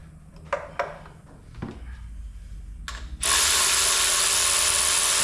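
A ratchet working a spark plug on a PT Cruiser engine, with a few close clicks and a short rapid ratcheting run, then a loud steady broadband hiss that covers the rest of the clip.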